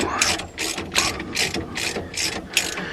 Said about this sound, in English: you don't fully tighten one nut or bolt up and then move to the next